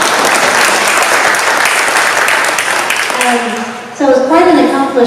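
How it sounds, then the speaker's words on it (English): An audience applauds a high school robotics team member, with dense sustained clapping for about three seconds before it fades and a voice starts speaking. "Yes, give him a round of applause."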